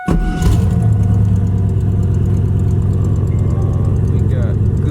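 Turbocharged LS engine in a Camaro cranking and catching, then settling into a loud, close, steady idle with a deep lumpy rumble that holds without pause for several seconds.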